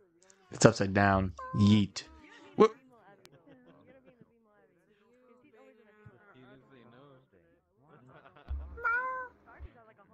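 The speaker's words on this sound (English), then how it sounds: "it's just a cat" Several loud, drawn-out cat meows come in quick succession at the start, then a quieter stretch follows with another meow near the end, amid an online VR game session where voices also chatter.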